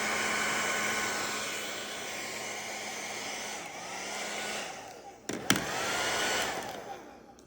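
A hair dryer blows in a steady, loud whoosh, aimed at a vinyl record sleeve to soften its sticker, before a few clicks and handling noises near the end.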